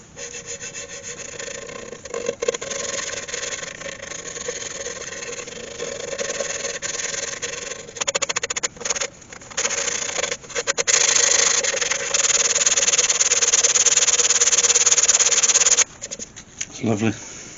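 A yew bowl with a natural edge and resin-filled bark inclusion sanded by hand with 180-grit sandpaper, giving a loud close scratchy rubbing in long sustained passes broken by short pauses, with a voice speaking at times.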